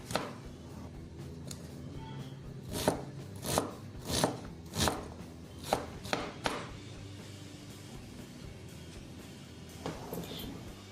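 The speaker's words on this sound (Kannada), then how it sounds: "ಇದನ್ನ ನೈಸ್ ಆಗಿ ಕಟ್ ಮಾಡ್ಕೊತಾ ಇದ್ದೀನಿ ಮಸಾಲ ಮಾಡಲು." A knife chops onion on a cutting board for capsicum masala. The crisp taps are close and come in an uneven series, with a quick cluster in the middle and more scattered cuts at the start and end.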